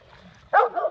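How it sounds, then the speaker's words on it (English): A Great Pyrenees dog gives a single loud, close bark in a backyard, with a short yelping tail after it and quieter background sound before it. "Winston's the Great Pyrenees"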